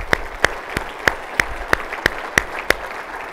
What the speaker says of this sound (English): So please join me in giving Lester a round of applause.